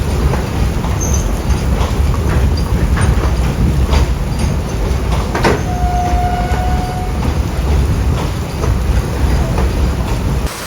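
A container freight train rolls past at a station near Panvel, Mumbai, in heavy rain: a loud, continuous rumble with rhythmic wheel clatter and a brief high squeal midway, no voices.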